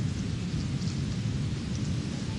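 Sudden rain falls heavily, a dense, steady hiss of downpour with a low rumbling undertone, loud and continuous with no voices.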